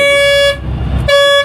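Vehicle horns blare in a slow-moving traffic jam with heavy trucks, a loud sustained harmonic honk that breaks off briefly under engine rumble, then resumes just as loud.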